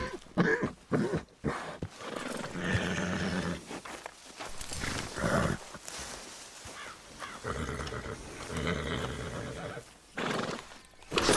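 Video game horses whinny loudly and repeatedly, shrill neighs punctuated by hooves clip-clopping, the calls coming in bursts with short gaps between them.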